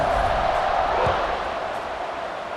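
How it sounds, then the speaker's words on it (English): Stadium crowd buzzing in a college football video game, a loud, steady wash of massed voices and cheering that holds at a constant roar before easing slightly. "this crowd is buzzing after that last score."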